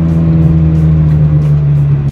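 A car engine holds a loud, steady drone while being driven and shifted at about 3000 rpm, heard close and alone, then drops off abruptly at the very end.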